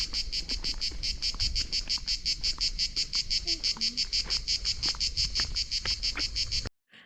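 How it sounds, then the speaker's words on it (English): Cicadas sing in a loud, steady pulsing chorus on a hillside above a bay near Vathi, the rhythmic buzz throbbing continuously for several seconds before cutting off abruptly near the end. "Cicadas."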